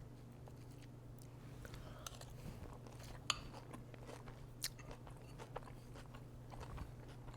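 Someone chewing a bite of kala chana chaat, a vegan chickpea salad, with faint, close crunches and soft clicks against a quiet steady background hum.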